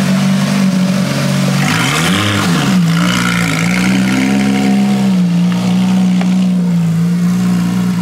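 A Porsche 991 GT3 engine with a GMG exhaust runs loud and steady from start to finish, its deep idle dipping and swelling once early on before settling into an even drone.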